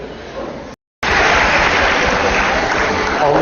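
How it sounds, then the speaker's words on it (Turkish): Applause from a live broadcast audience sending someone off, a dense continuous wash of clapping broken by a brief cut to silence, then resuming just as loud and steady. "Alkışlarla uğurluyoruz."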